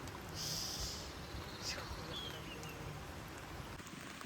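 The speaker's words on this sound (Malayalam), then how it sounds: "അപ്പേ മഴ പെയ്തിട്ട് നല്ല മഴയാണ്" Heavy rain falls steadily as a dense, even hiss beneath scattered breathing and voices, near and continuous throughout.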